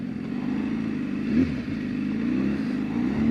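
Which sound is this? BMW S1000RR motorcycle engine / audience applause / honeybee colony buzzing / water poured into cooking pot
BMW S1000RR motorcycle engine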